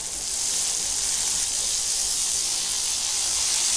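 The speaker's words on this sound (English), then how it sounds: "I'm adding these small fillets to the sizzling hot butter in the pan" A loud, steady sizzle of small fish fillets frying in hot butter in a pan, a bright continuous crackling hiss with no talking.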